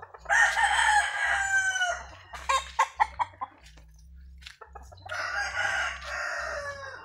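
A rooster crows loudly twice, near and clear, with hens clucking in short bursts between the crows; a low steady hum runs underneath.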